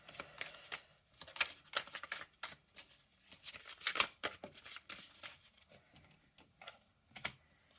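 A deck of tarot cards riffled and shuffled up close, quick papery flutters and clicks coming in uneven bursts, with short pauses between the runs and nobody talking.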